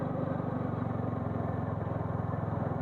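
Motorbike engine revving steadily as the throttle is opened, a close, loud, continuous low throb with a fast pulsing rhythm throughout.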